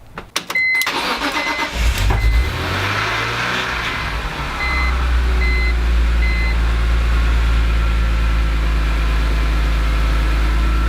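A BMW E46 M3 race car engine starts with a brief crank, then settles into a loud, steady idle that grows fuller and rumbles on without a break.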